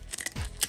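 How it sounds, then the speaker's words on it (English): Scissors cutting open packaging of Peanuts soda can collectibles, a quick faint snip or two, close and brief, with no talk. "So let me get my scissors,"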